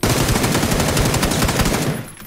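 Rapid automatic gunfire from the PUBG battle royale game rattles loud and continuous for about two seconds, then cuts off abruptly.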